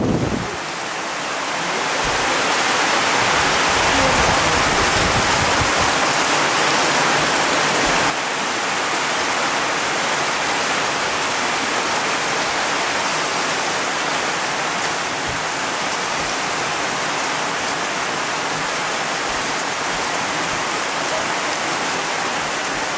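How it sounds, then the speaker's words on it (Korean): A heavy tropical downpour during a storm, rain pounding surfaces in a dense, continuous roar that stays steady and loud throughout, with no voices. "이런 장대비는 처음 본다"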